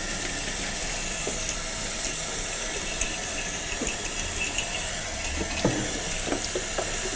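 Running water hisses and splashes steadily as the dirty-water tank of a Bona Power Scrubber floor cleaning machine is rinsed out, with occasional knocks and sloshing.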